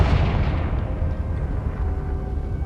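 A Confringo fire spell blast from the video game Hogwarts Legacy: a loud, booming burst at the start that rolls into a dense, rumbling low roar and slowly fades, with no speech.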